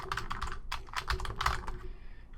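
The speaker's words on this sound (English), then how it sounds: "and then type in Happy Thanksgiving." Keys clatter on a computer keyboard in a short, close burst of quick, uneven taps, then fall quiet at the end, with no talking over them.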